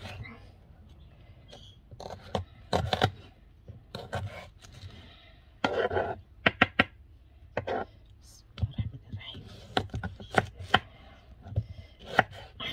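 Onions are chopped on a board for molokhia cooked in oil, with irregular sharp knife strikes in bursts and clusters, close and fairly loud, while a voice speaks softly between the cuts.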